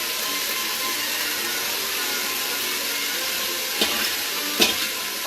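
Onions fry in hot oil in an Instant Pot, giving a broad, steady, fairly loud sizzle that hardly varies, with two faint clicks of a utensil near the end.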